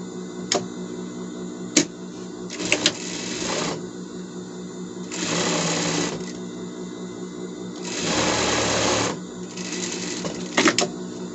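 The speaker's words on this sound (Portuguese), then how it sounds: "Avesso com avesso, direito com direito, a gente vai passar uma costura aqui" A sewing machine stitches fabric for a protective bed cover in quick rattling bursts of several seconds each, separated by pauses with sharp clicks and snaps close by and no talking.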